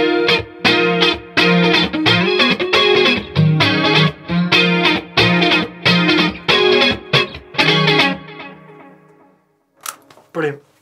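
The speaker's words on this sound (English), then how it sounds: "That's just the chorus ensemble. Chorus ensemble. With a little bit of delay on the end." Chorus ensemble effect with a touch of delay on a synth, heard as a run of loud shimmering chord stabs in a choppy rhythm that ends in fading echoed repeats and a few brief sounds.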